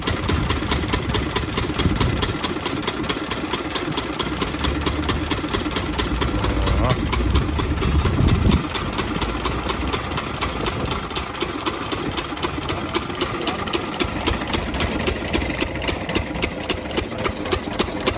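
An old diesel generator idles with a steady, fast, mechanical chugging, loud and close, the rhythmic knocking unbroken throughout, while a voice speaks briefly over it.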